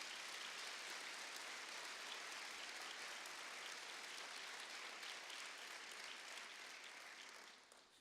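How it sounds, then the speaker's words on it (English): A large audience at a 2019 Boys & Girls Club celebration claps for the staff, producing dense, steady applause that holds the full length and tapers slightly at the end. "let's give them a round of applause for all that they do as well"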